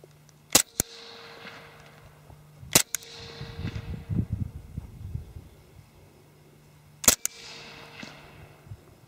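A suppressed HK Mark 23 .45 pistol fires 230-grain Underwood rounds outdoors: three sharp, separated reports ring out, each with a short decaying tail, over low background hum.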